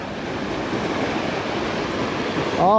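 Big sea waves crash against a rocky shore during rock fishing, making a loud, close, continuous roar and wash. A voice cuts in briefly at the very end.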